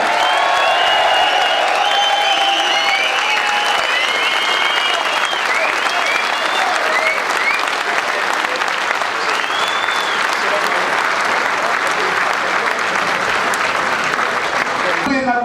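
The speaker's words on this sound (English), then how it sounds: "Big round of applause for Ricky, the Hitman, Hatton." A large audience at The Lancastrian Suite in Gateshead claps loudly and steadily for boxer Ricky Hatton, with scattered cheers and whoops rising over the applause early on.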